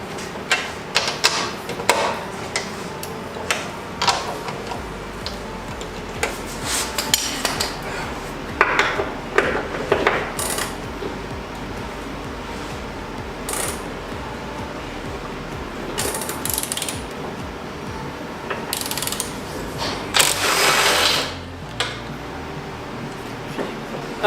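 A ratchet wrench clicks steadily while big bolts are removed from a Toyota Supra, with repeated bursts of pawl clicking and occasional metallic clanks, close and fairly loud.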